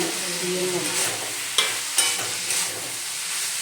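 Fish head is stirred into frying potato, bean and cabbage vegetables, giving a steady sizzle with a few sharp scraping stirs of a spatula against the pan.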